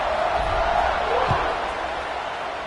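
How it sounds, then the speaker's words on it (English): A football stadium crowd at a USF at Louisville game keeps up a steady, loud, buzzing roar after a score, with a dull thump partway through. "this crowd is buzzing after that last score"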